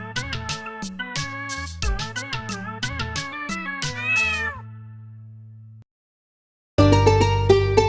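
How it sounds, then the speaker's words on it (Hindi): Repeated cat meows ring out over a bouncy children's tune with a thumping bass line, a short silence, then the music starts again. "बिल्ली करती म्याऊं"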